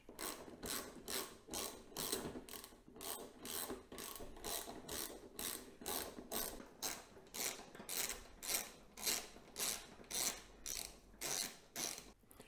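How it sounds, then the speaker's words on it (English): Steady repeated ratchet clicks from a 1/8 inch Allen socket loosening the windscreen bolts on a Harley Road Glide Limited, a fast even rhythm of short swings continuing close and clear with no talk. "To remove these, I will be using a 1/8 inch Allen socket."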